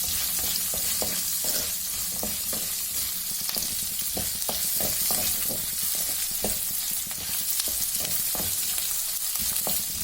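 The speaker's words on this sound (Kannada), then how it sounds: "ಈರುಳ್ಳಿ 3, ಲೈಟ್ ಗೋಲ್ಡನ್ ಬ್ರೌನ್ ಬರಬೇಕು." Three onions fry in a pan toward light golden brown, a constant close sizzle broken by regular clinks and scrapes of a stirring spoon, with no voices.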